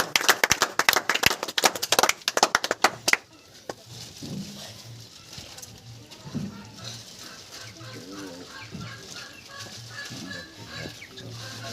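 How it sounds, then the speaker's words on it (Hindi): An audience at a welcome gathering in Bihar bursts into loud, sharp clapping for about three seconds, which then stops. Voices and scattered background noise follow. "एक बार जोरदार तालियां बजा दीजिए।"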